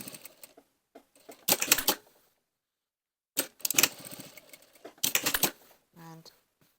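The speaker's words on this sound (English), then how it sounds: "last step is stitch your welt down" A sewing machine stitches down the welt of an angled waistcoat pocket in several short, close mechanical bursts with quiet pauses between them, and a brief low hum near the end.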